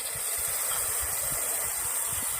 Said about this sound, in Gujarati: હવે જે ટામેટું ખમણેલું છે એ નાખી દઈશું.